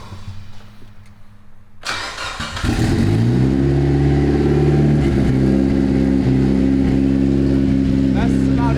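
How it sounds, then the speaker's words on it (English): A Honda Civic engine cranks and fires after a quiet start, then idles and revs loudly through a loud, open exhaust, with a steady deep rumble close to the microphone. "That's loud exhaust."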